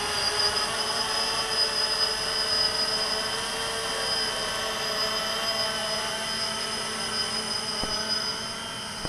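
A Walkera X350 Pro quadcopter drone, modified, lifts off and hovers with a loud, steady high-pitched motor and propeller whine. The sound stays constant and close throughout.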